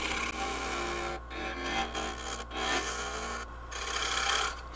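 A small spalted oak tenon being trued by hand with a file: rhythmic rasping strokes, close and fairly loud, with brief pauses between passes and no talking.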